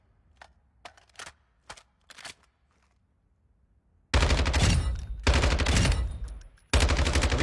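Warzone 2 gunplay: after several brief, quiet mechanical clicks, loud sustained bursts of automatic rifle fire rattle out in three long strings separated by short pauses, close and dominant with no talking.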